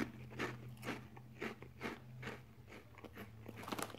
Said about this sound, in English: There's a little bit of crunch